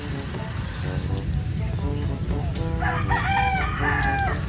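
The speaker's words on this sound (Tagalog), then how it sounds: "Tilaukan po ang mga manok" Roosters crow nearby over a steady background rumble, with a couple of overlapping calls toward the end and some clucking.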